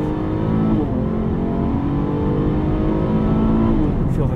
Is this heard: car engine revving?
yes